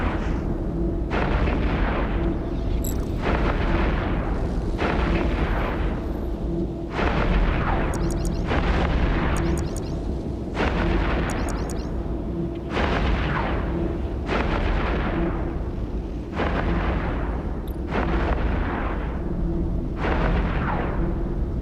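A Dominix battleship is destroyed in EVE Echoes space combat against a Black Ops Machariel, heard as loud, heavy booms repeating about every two seconds over a constant deep rumble, with no voices.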